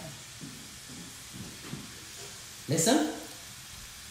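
Chicken curry sizzles loudly in a pan: one sudden, bright hissing burst lasting about half a second rises after quiet kitchen murmur, with a voice speaking briefly before it.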